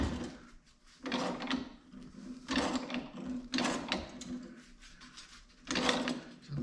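Hand shears snip through sheet metal for a custom hood molding, blades loosely clamped to a table, in four separate bursts of crisp, scraping cuts with pauses between them, close and moderately loud.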